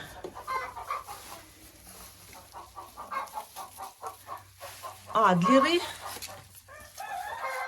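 Several hens cluck and murmur close by, with a louder squawking cackle midway, while a person talks quietly among them.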